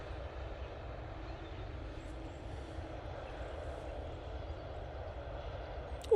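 A Boeing 787 Dreamliner moving near the airport tower at Manchester Airport gives a steady, distant jet-engine rumble that holds evenly throughout.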